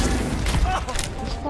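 Gunfire crackles in a match of the Overwatch video game as dense, overlapping shots with booming hits. It is fairly loud and fills a short burst of play, mixed with other game noise and possible faint voices.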